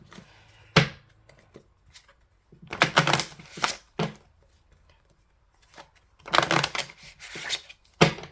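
Oracle and tarot cards shuffled during a tarot reading, giving bursts of papery riffling and slapping in several separate rounds with quiet gaps between them, close and fairly clear, with no talk over them.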